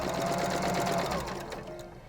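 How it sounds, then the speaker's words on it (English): A sewing machine stitching over apron straps, a rapid close mechanical whir of the needle that runs steadily and then slows and fades toward the end. "You are to sew over the straps."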